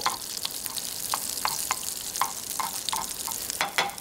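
Hamburg steak patty sizzling in a hot pan, a constant crackling fry with frequent sharp spits and pops, close and alone with no talking.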